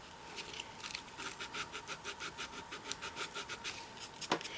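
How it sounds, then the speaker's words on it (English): Milliput putty on a doll's leg is sanded by hand in quick back-and-forth strokes, each a short rasping scrape in a steady rhythm, close and fairly quiet, with one sharper tap near the end. "you got to figure out which way to go when you're sanding, where you're getting the best results"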